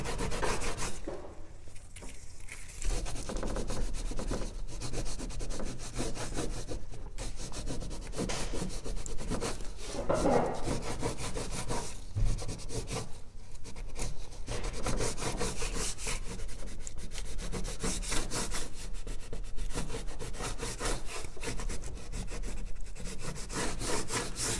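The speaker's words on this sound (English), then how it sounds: "So I'll finish wiping this off this section here." A cloth rubs antique finish off tooled leather in steady, continuous scrubbing strokes, close and moderately loud, with brief pauses between passes and no voices.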